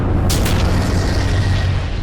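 Explosion in a Skibidi Wars animation, a loud low booming blast with a sharp burst at the start, rumbling continuously through the short clip with no talk.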